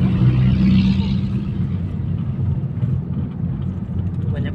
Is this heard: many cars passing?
yes